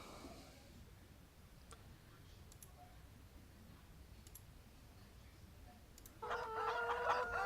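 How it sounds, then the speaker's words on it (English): Chickens in Farming Simulator 17: after several seconds of faint ambience with sparse clicks, a loud harmonic cluck or squawk bursts in close and continues to the end. "Yeah, and these are chickens."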